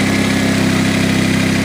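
A Honda HT3813 lawn tractor engine idling as it warms up, close and loud, a steady even chug with a fast regular pulse and no change in speed over the short stretch.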